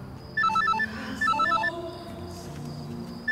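Telephone ringing in a film scene: two bursts of a bright electronic ringtone melody, each about a second long with a short gap between, loud and close over a quiet room.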